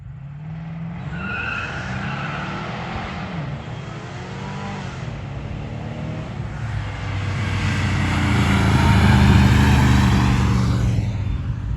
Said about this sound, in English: here is all the footage from the drag races from this past weekend